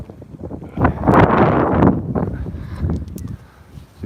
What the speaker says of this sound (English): It's very gusty around here.